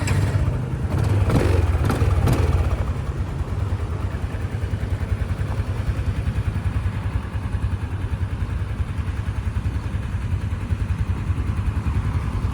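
A 2025 Yamaha LC135 SE motorcycle engine idles steadily with a low, even rumble, a few sharp clacks at the start, then a constant drone throughout.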